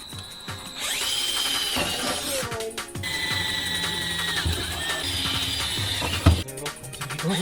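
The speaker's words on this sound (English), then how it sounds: "So we are going to drill right here." A power drill whines and bores into the corner of a Honda Beat kei car's body at the jacking point, with steady high-pitched drilling broken by brief pauses, a ratcheting clatter and a sharp knock near the end.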